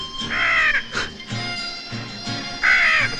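A crow caws repeatedly in a western horror drama, harsh drawn-out calls close and loud, separated by brief gaps.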